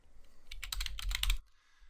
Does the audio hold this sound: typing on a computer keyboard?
yes